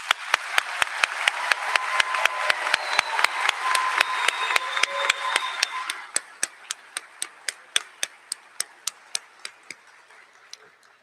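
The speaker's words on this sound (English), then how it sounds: "One more round of applause." Applause for nursing graduates at a pinning ceremony: a crowd claps under one loud, evenly spaced rhythmic clap, and the group clapping fades midway while the steady beat carries on.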